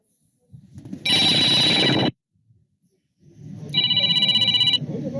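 A phone gives off loud electronic ringing and beeping in two bursts separated by a short pause, sounding to help locate the device, with background noise and voices nearby.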